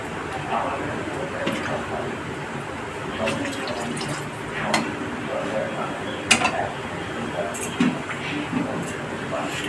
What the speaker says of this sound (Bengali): একটু জল, ধোকাটা দেবো তো একটু জলটা বেশি দিচ্ছি।